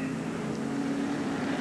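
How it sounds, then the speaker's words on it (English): Camaro race cars on the track at Pocono make a continuous engine drone, a brief, steady roar at moderate distance with no clear rise or fall. "The Camaros are coming."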